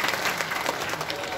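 An audience at a Muhammadiyah Hajj gathering in Makkah applauds with dense, steady clapping from a large crowd, continuous and fairly distant for the whole moment.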